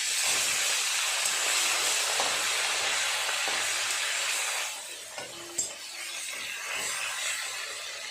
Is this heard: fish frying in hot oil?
yes